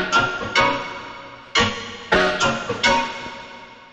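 Synth patch lifted from an original track, playing a sequence of sharp-attack bright tones that each decay over about half a second, six or so hits in an uneven rhythm, close and alone with no voice.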